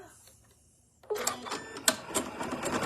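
A 9mm sewing machine sews a lock stitch on fabric for a bath tea sachet. It is quiet at first, then a close, rapid mechanical whirring and clattering runs with a few sharper knocks.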